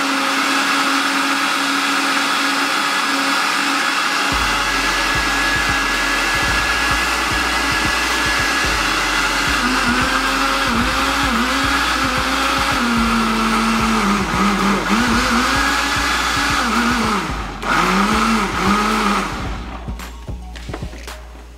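A kitchen blender whirs loudly as it purees homemade hot pepper sauce tinted red with annatto, running steadily with a pulsing, churning motor tone for about twenty seconds before starting to wind down.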